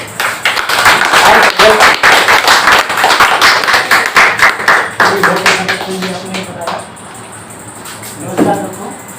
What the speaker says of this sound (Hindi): जोरदार तालियों से स्वागत करना है